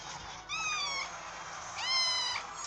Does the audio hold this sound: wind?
no